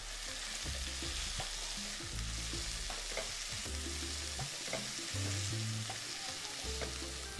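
Radish greens sizzle and fry in a hot pan while a spoon stirs them in repeated scraping strokes, steady and close, with no voices.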